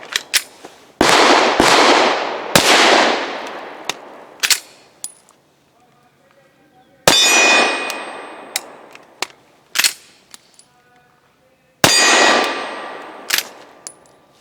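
A Sarsilmaz ST9 pistol fires 65 grain ARX rounds in several loud, sharp shots spaced irregularly, with ringing metallic clangs and quiet gaps between them, alone with no talk.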